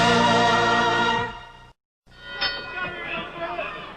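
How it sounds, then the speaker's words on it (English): A boxing ring bell signals round 7 of a heavyweight bout between Johnny Boudreaux and Scott LeDoux. A sustained ringing tone fades out, a brief silence follows, then crowd noise rises. "The bell for round 7"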